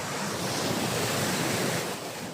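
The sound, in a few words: big ocean waves at the beach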